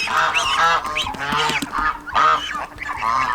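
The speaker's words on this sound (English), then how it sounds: "the little Emden is the cutest out of all of the baby geese" Loud, raucous goose honks come in repeated bursts close by, several birds calling over one another with little pause, from a farm flock including Emden and African geese.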